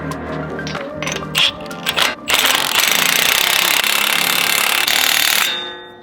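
Power tool tightening axle bolts on a Ford Bronco during a 3.5-inch Rough Country lift install, a loud sustained rattling hammer-like burst lasting several seconds after a few short bursts, then trailing off.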